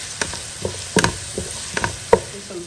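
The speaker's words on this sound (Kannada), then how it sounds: "ಈರುಳ್ಳಿ ಸ್ವಲ್ಪ ಹಸಿ ವಾಸನೆ ಹೋಗುವವರೆಗೆ ಇದನ್ನು ಹುರ್ಕೋಬೇಕು." Onion frying and being stirred in a pan, with a steady sizzle broken by several sharp scrapes and clinks of the spoon against the pan, close and fairly loud, no talking.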